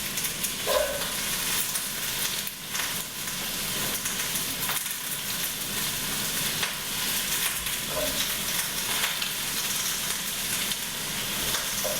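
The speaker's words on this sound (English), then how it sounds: "Give that a stir." Celery and carrots in a broth pot hiss and bubble steadily while being stirred, with a dense, continuous sizzle and occasional soft knocks of the spoon against the pot.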